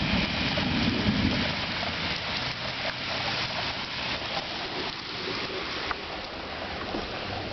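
Steady rain falls during a thunderstorm, a dense continuous hiss of drops on surfaces that holds at an even level throughout without a break.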